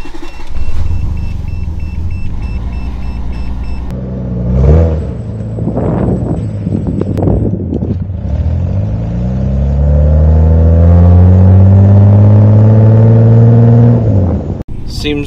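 An MK2 Toyota Supra rally car with heavy front camber is driven on ice. The engine revs up and down loudly up close, builds to a sustained high roar near the end, and a clunk sounds once.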